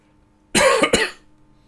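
A loud, close cough with two sharp bursts in quick succession, standing alone against a quiet background during a Dungeons and Dragons tabletop session.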